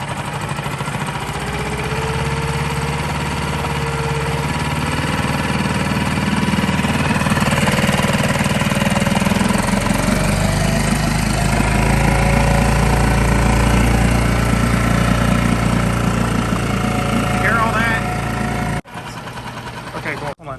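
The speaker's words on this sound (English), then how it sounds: "Listen to the sound of this motor." A portable outboard motor runs close by with a rough, chugging idle, then revs higher and louder in the middle before settling and cutting off near the end.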